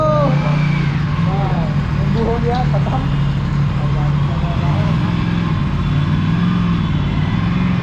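A parallel-twin Aprilia RS 457 motorcycle engine runs and pulls away nearby, a steady low drone under a voice, with a few brief higher tonal whines early on.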